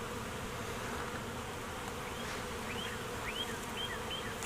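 Honey bees buzzing around an opened backyard hive during an inspection, a dense steady hum of many bees close by with individual bees whining past, no talk.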